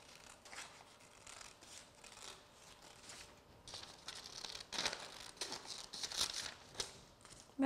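Scissors cutting a folded sheet of paper in a second-grade classroom lesson, with crisp snipping and rustling strokes in short bursts, growing louder and busier toward the end, no talking.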